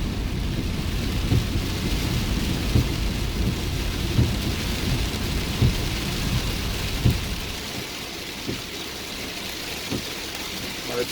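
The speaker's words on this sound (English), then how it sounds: "It's been raining for about 2 hours like this" Heavy rain pours steadily during flooding in Crosby, Texas, a dense hiss punctuated by repeated low rumbles of thunder; the downpour eases slightly toward the end.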